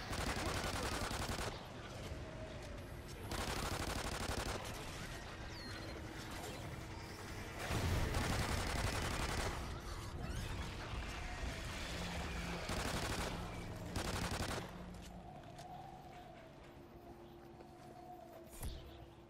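Call of Duty Ghosts Extinction gameplay brings quiet bursts of weapon fire alternating with mechanical clicks and ratcheting, several separate volleys over a low steady game background.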